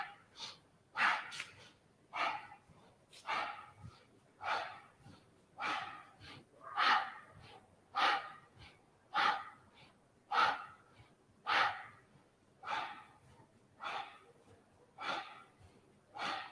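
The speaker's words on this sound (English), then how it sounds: "You might be able to hear my breath. It's nice and powerful." Powerful yoga breathing, deep forceful inhales and exhales repeating in a steady rhythm roughly every second, close and breathy with no talking.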